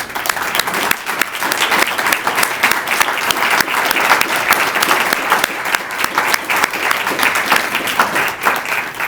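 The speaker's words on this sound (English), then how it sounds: "please stand up and let's give them a round of applause" Loud, dense applause from a large audience at a community presentation, many hands clapping continuously with steady energy for several seconds and a slight crowd rumble beneath.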